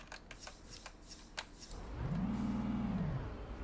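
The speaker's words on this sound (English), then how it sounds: "Not quite sure what's happening with the revs, because I did have it in gear." Enviro500 bus engine in Bus Simulator 21, revving in a single rising and falling surge that swells up loud after a stretch of quieter clicks and rattles.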